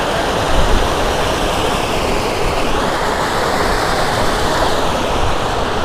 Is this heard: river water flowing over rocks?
yes